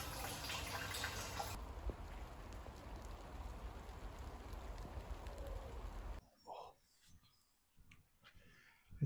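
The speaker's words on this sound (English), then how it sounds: "It's raining, it's raining." Steady rain patters and hisses in a garden for several seconds, then cuts to quieter drips with faint birdsong.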